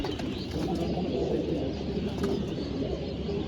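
Pigeons at a racing loft coo softly under a steady background hum, close but low, with faint chirps and no voices.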